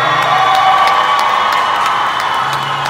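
Concert crowd cheering and whooping at a live pop show in a Dallas arena, a dense, continuous roar of many voices with shrill shouts poking through, loud and sustained throughout.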